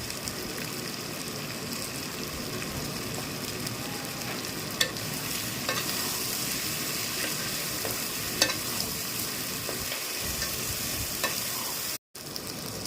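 Ginger and shallot paste frying with chili powder in oil for gongura chicken, a steady close sizzle with scraping stirs throughout, ending in a brief cut to silence.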